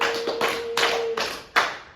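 A small group in a guidance-counselling session claps for a classmate named Fitri: a few loose bursts of hand claps, close and fairly faint, with a steady tone running underneath partway through.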